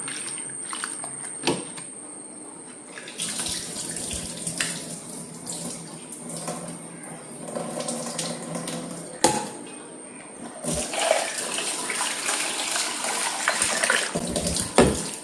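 Sliced potatoes are swished and squeezed by hand in a bowl of water in a home kitchen, producing continuous splashing and sloshing with sharp knocks, close by and fairly loud, with no talking.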